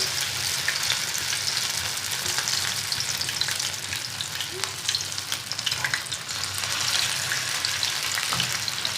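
Taro fritters fry in plenty of hot oil, a dense, steady crackling sizzle with small pops and bubbling throughout, close and fairly loud with no voices.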